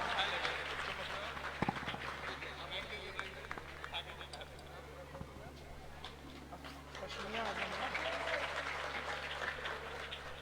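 Scattered clapping from an audience at an Independence Day celebration in West Bengal, fairly faint and uneven with some louder claps, over a steady low hum and picking up again toward the end; a voice talks through parts.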